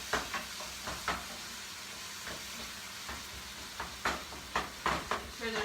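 Ground meat browning in a frying pan for shepherd's pie, giving a soft, steady sizzle with occasional louder scrapes and stirring clatter, close but quiet.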